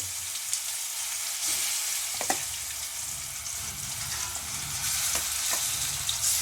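Mashed eggplant mixture sizzles after going into hot oil with mustard seeds, a steady, close frying hiss with a few soft stirring knocks and scrapes.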